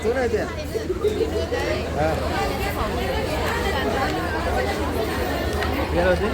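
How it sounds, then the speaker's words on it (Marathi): A large crowd at the Tuljapur temple town chatters in dense, steady hubbub, many voices overlapping close by with no pauses throughout. "नुसती गर्दी नुसती गर्दी"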